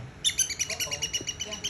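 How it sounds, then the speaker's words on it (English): A small garden bird chirps in a quick run of bright, evenly spaced tweets close to the microphone, about a dozen notes over faint low background noise. "I'm filming the bird."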